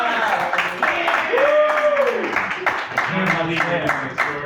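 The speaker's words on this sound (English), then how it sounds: "Let's give him a round of applause." Bar comedy show audience in Orlando clapping as a performer is called up, scattered applause running beneath a man's loud, animated talking.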